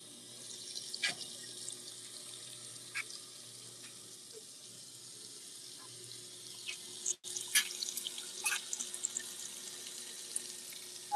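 A GE GTW220ACW0WW top-load washing machine fills with water for a cool wash: a steady, fairly quiet rushing stream with scattered small clicks and splashes, and a brief cutout partway through.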